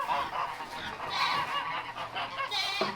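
Geese honk repeatedly in a barn with waterfowl kept inside, nearby and fairly loud, their overlapping calls running continuously with no talking.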